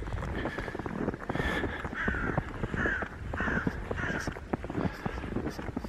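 Crow cawing repeatedly in a snowy coombe, a steady series of about six harsh caws at a moderate distance, mixed with the crunch of footsteps and someone talking.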